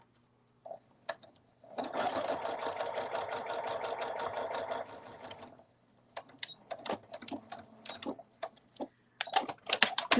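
A sewing machine stitches a fabric cuddle bunny in one sustained burst, close and steady, followed by scattered clicks and short handling noises.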